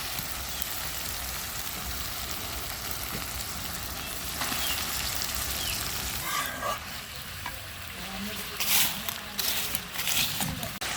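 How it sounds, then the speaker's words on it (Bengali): Duck meat fries with spices in a pot over a rural clay stove, a loud continuous sizzle with scraping stirs that grow busier and more uneven toward the end. "এখন গোস্তটা দিয়ে কষায় নেব।"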